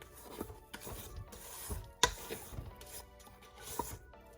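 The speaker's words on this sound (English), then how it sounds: "now I'm going to scrape down the sides and bottom of the bowl" A spatula scrapes the sides and bottom of a mixing bowl of pumpkin spice cream cheese pound cake batter, giving soft, irregular rubbing strokes with a few sharper knocks, close by and fairly quiet.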